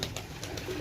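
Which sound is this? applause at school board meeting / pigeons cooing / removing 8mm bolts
pigeons cooing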